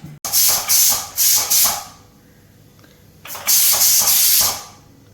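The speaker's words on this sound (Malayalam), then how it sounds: "ഇനി 1 വിസിൽ വേണ്ടി വെയിറ്റ് ചെയ്യും." Pressure cooker cooking ghee rice lets out loud, close hissing steam bursts, a few short puffs then a pause and a longer rushing release.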